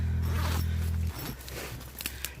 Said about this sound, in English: Rain safe zipper on the inside because you never know which way the wind is going to blow from.